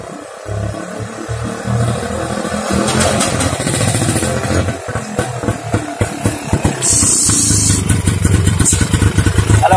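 A 1953 Radex Express JLO 125cc motorcycle engine runs loudly and close throughout, its uneven two-stroke idle clattering with rhythmic thumps and swelling into brief revs near the end.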